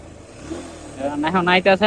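A motorcycle engine idles, then is revved in several quick, loud bursts near the end. The bike makes an unusual noise from the engine after being filled with loose fuel.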